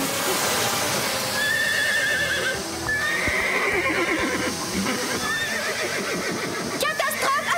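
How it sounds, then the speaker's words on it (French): Horses in a cartoon stable whinny loudly and stamp amid a busy clamor, with clattering hooves, shrill neighs and a burst of sharp clatter near the end, under overlapping excited voices. "Marie et Rosa, aidez-moi à calmer les chevaux!"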